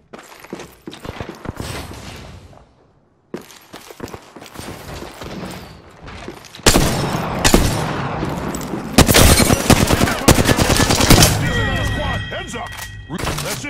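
Gunfire erupts in the Apex Legends video game as rapid shots and thuds crowd the mix, breaking off briefly before a louder sustained stretch of weapon fire and game effects, with voices talking over it.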